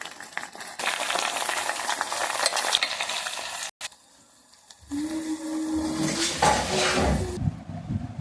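Fenugreek seeds and leaves fry in hot coconut oil as a hair remedy is prepared, with a steady close sizzle, stirring scrapes, a brief pause midway, then louder bubbling and sizzling.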